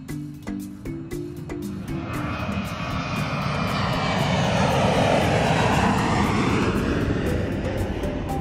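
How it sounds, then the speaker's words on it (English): Airplane engine roaring as the aircraft flies past, a loud droning hum that starts with a lower tone and swells into a broad, sustained roar, with no speech over it. "L'aereo. The plane."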